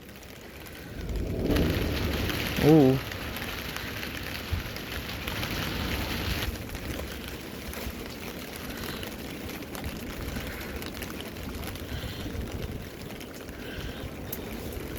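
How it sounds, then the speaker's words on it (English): Steady rain during a thunderstorm in Reno, Nevada, a soft broadband hiss that runs throughout, with a brief exclamation from a voice near the start. "It's still raining, but it's not like crazy."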